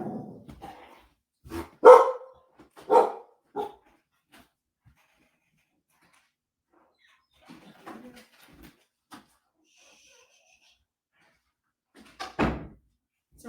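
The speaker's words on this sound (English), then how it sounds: "The dog started barking" A household dog barks in a few sharp, separate bursts in a quiet room, loud and close, with a knock at the door and brief rustles between barks and no talking.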